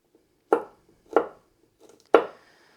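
An onion being finely cut with a knife on a board produces three crisp, separate chops spaced roughly half a second apart, close and clear against near silence.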